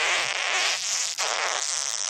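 Cartoon fart, a loud sustained hissy blast lasting about two seconds with a brief dip in the middle, heard alone with no talking.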